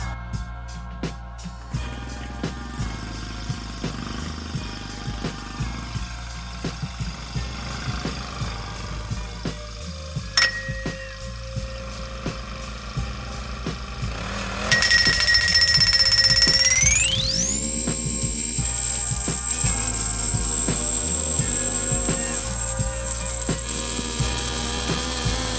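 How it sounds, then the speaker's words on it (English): A gasoline-powered picket pounder drives a fence post: a steady engine drone runs throughout, then revs up sharply about midway and holds at a louder, higher pitch, with no talking. "We're gonna fire it up and drive that pole down, and I'll show you here how this goes."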